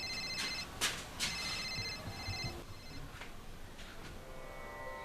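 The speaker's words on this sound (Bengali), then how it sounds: "ফোন বাজে।" A telephone rings indoors in a Bengali family drama, its repeated bell-like trills sounding at moderate level through a steady background hiss, with no talking.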